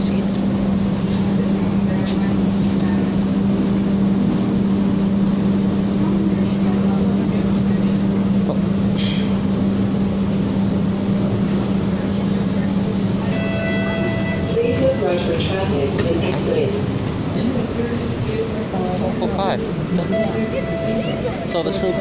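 A TTC Bombardier Flexity streetcar, number 4508, rides along Dundas on route 505, its motor humming steadily with rumbling wheels and interior noise. Recorded announcements and voices are heard over it.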